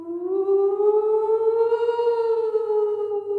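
A long, eerie wailing tone that slowly rises and falls like a siren, steady and alone, used as a spooky ghost effect.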